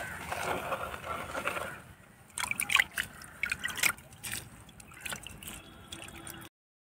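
Water is poured into potted green chilli plants with soft splashing and trickling at first, followed by scattered drips and light knocks, faint and close.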